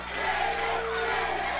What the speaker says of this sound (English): And they're chanting David in the arena right now.